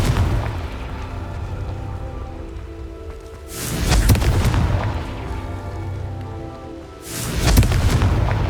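Two loud, broad blasts from the Confringo spell in Hogwarts Legacy, spaced a few seconds apart, each a booming burst with a crackling tail over a steady game-ambience bed.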